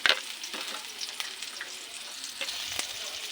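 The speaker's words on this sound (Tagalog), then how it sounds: "Caramelize lang po natin ng konti yung sibuyas." Garlic and onion frying and caramelizing in a pan, a continuous close sizzle broken by occasional sharp clicks and scrapes of stirring, with no one speaking.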